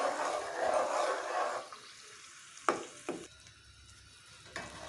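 Masala frying in a pan for egg and chickpea curry, a soft sizzling hiss that is strongest at first and then fades, with a few sharp clinks of stirring.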